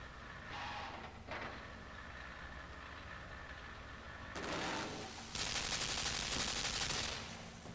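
A machine gun fires in the game Limbo, dense rattling bursts that swell loud and continuous in the second half after quieter mechanical rumbling and a couple of brief bursts early on.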